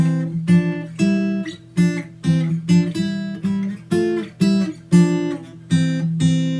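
A guitar plays a quick sequence of plucked notes paired in harmony, moving in a steady rhythm, clear and close with no talking.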